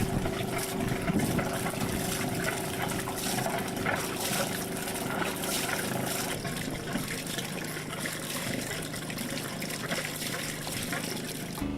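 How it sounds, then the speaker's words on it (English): Cooling water splashes steadily from the generator outlet on a boat, a continuous close trickling wash with a low mechanical hum running beneath it throughout. "you should always ensure that there is water coming from the outlet on the generator"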